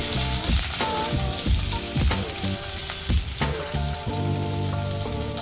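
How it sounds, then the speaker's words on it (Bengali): Chopped onions fry in hot olive oil in a wok, giving a steady, close sizzle with stirring over a continuous bed of music. "তেলটা গরম হয়ে গেলে তাতে দিয়ে দেওয়া হচ্ছে পেঁয়াজ কুচি"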